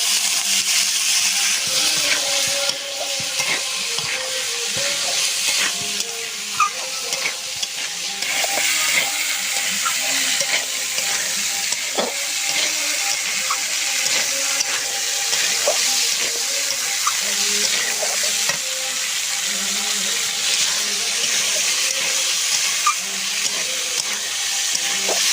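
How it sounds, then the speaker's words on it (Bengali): Soaked chickpeas being stirred as they fry with green chilli and onion in a pan, a steady wet sizzle running throughout with scattered scraping clicks, fairly loud and close, no talking. "এইভাবে নাড়তে থাকবে।"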